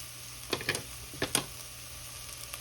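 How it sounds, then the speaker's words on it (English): Onions and spices fry in a pan for chicken and yogurt curry, a faint sizzle broken by a few quick scraping stirs. "Give it a quick stir"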